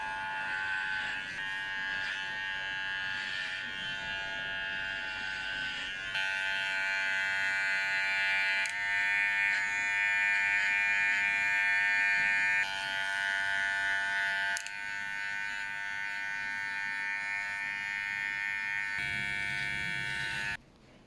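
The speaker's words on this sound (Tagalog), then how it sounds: "susubukan na nga natin ang hair clipper dito sa aming bunsong kapatid" Electric hair clipper buzzing steadily as it cuts a young boy's hair, a loud close drone that shifts pitch slightly as the blades move through the hair, running almost without pause.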